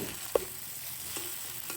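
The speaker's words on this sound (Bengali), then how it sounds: "ভাজা ভাজা মশলার উপরে দিয়ে এখন চামচ চামচ নাড়বো" A spoon stirs cumin, turmeric, salt and red chili frying in oil in a pan for a fish curry, giving a few soft scrapes and taps over a faint, quiet sizzle.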